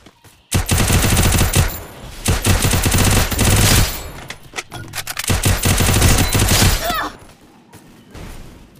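A UMP submachine gun fires in the battle royale game Free Fire, loud rapid automatic bursts that run nearly continuously, with short gaps between strings of shots.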